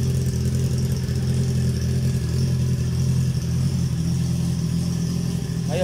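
A Honda CB650R motorcycle engine runs with a steady, loud, close low drone that holds an even pitch throughout, with no clear rise into a rev.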